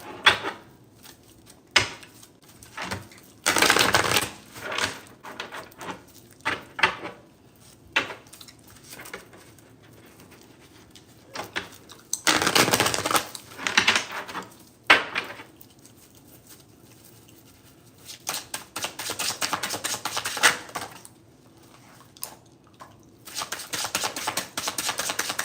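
Tarot cards being shuffled and drawn, with bursts of soft riffling and slapping interspersed with brief taps and quieter pauses, close and fairly faint, no talking.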